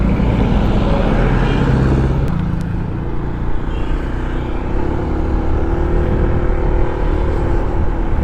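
Steady roar of road traffic with many cars and motorcycles passing on a busy street during a town fiesta in Pantihan 1, Maragondon, Cavite, continuous and fairly loud with engines rising and fading throughout.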